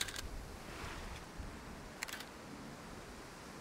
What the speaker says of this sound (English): Just going to cover the back of the camera up when I press the shutter button. The mirror will lock up, there'll be a 2-second timer,